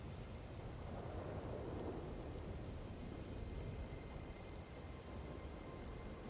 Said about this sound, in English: Proper storm weather